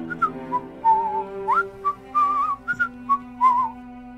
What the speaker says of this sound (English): Good whistling.